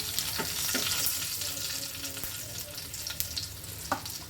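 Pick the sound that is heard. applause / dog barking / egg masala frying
egg masala frying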